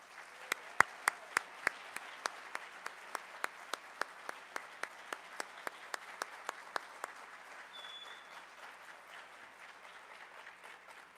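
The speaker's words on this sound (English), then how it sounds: "another round of applause," Crowd applause at a high school alumni hall of fame induction ceremony, with one person's sharp, steady claps standing out at a brisk rhythm for several seconds, then the clapping fades into a soft murmur of the room.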